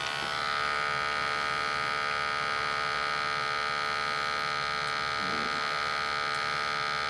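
An old Briant gas boiler runs steadily and close, giving a constant electric-sounding hum and buzz with layered tones that holds unchanged throughout, with no voices over it.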